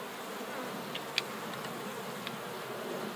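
Honeybees buzzing around hives being swapped over to new boxes, a faint, steady hum of many insects with a few closer passing buzzes.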